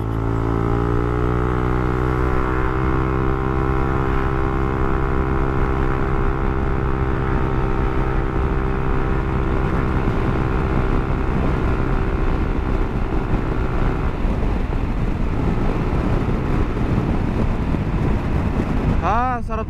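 A motor scooter with an upgraded CVT city-driving setup rides through the city, its engine droning steadily with rising tonal whine and heavy wind rush throughout, the pitch shifting near the end.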